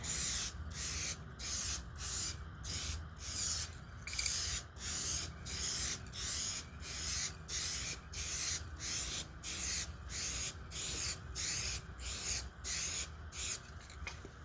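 Close, rhythmic hissing from a spray can coating plastic body cladding on an 04 Saturn VUE with Piano Black HyperDip, fired in about sixteen short, evenly spaced bursts with a faint room hum underneath and no talk.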